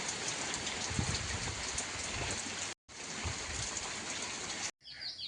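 Steady rain falls at night near a canal, a dense continuous hiss of drops broken by two brief cuts to silence, with no talking.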